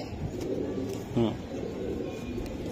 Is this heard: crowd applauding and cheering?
no